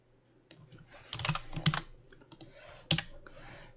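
Computer keyboard typing, a few quick close keystrokes in short clusters with a louder tap near the end, clear and alone.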